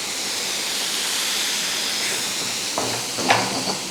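Beef momo filling sautés with soy sauce in a hot pan, a loud, broad hiss of steam and sizzle, with a few stirring knocks toward the end.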